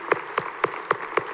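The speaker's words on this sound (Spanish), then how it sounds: "Les damos un aplauso." A congregation at a Catholic Mass honoring mothers on Mother's Day gives applause, heard as five evenly spaced, distinct claps at moderate volume with no talking.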